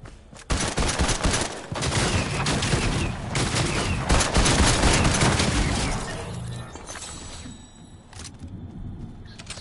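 Sustained, loud burst of rapid gunfire from the video game Fortnite played on a PS5, crackling continuously for several seconds before thinning out into scattered shots.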